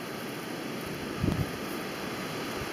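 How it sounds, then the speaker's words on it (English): Steady outdoor wind noise with a broadband rush buffeting the microphone, and a brief low gust thump near the middle; no talking. "that wind is really picking up"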